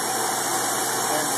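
A Haas VF-1 CNC mill spindle runs steadily at 7,500 RPM, giving a continuous, even, loud whine with a broad hiss and sharp high tones throughout.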